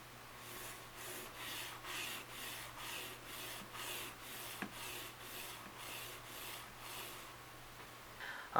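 Steady rhythmic rasping scrapes of a mouse on a metal mouse pad repeat about twice a second, a close, fairly quiet back-and-forth rubbing with a faint low hum underneath.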